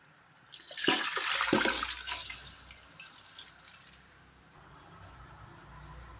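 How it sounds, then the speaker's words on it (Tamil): Water splashes and pours steadily into a cooking pot of rice for tomato rice for a few seconds, then trails off into a quieter trickle and low background hiss. "தேவையான அளவுக்கு தண்ணியெல்லாம் ஊற்றியாச்சு."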